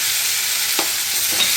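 Chopped tomatoes tipped into hot oil in a frying pan during home Bengali cooking, giving a loud, steady sizzle with a few soft stirring scrapes and no talk.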